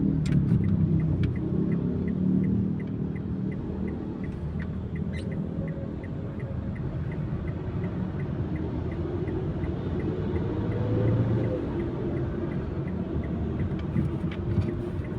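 Steady traffic rumble of cars on the South Luzon Expressway coming from BGC, a low continuous roar of many vehicles with faint periodic ticking above it.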